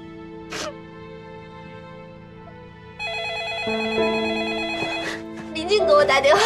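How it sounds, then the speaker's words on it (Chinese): An incoming call on a phone in a Chinese TV drama rings in a repeating electronic tone that starts partway through after a quiet room, steady and clear, with a short vocal burst and a voice near the end. "林静给我打电话，林静给我打电话"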